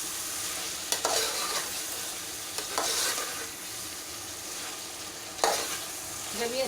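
Chicken korma is stirred in a pan over a gas flame, with a soft continuous sizzle and several distinct scraping strokes of the spoon at uneven intervals, close up and with no talking.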